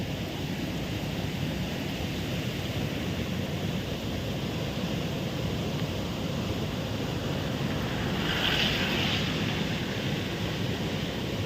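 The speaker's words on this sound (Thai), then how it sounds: "น้ำไหลเอง" Floodwater rushes steadily in a broad, unbroken wash, with gusts of wind buffeting the microphone, during a severe flood in Viengxay district, Houaphanh province, Laos.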